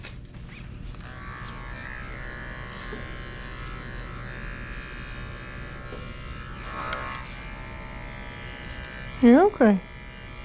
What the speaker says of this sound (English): So the other thing with this 5-in-1 clipper, the blades don't get hot, which is nice.